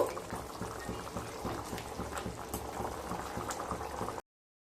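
Fish curry for katla kalia heating in a pan until it boils, giving a continuous soft bubbling and simmering hiss close by, steady throughout, before a sudden cut to silence.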